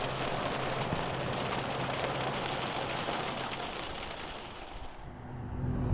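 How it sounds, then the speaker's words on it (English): Rain falling during a wet outing with an Aston Martin DBS Superleggera, a soft, steady wash of patter that thins slightly toward the end, with no voices. "Well, it's still raining a bit,"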